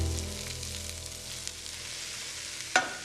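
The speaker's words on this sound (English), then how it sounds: "Just frying those vegetables and try not to get colour on them" Chopped leeks, carrots and celery fry gently in a hot pan as a sofrito for ossobuco, giving a soft, steady sizzle with one brief sharp clink near the end and no voices.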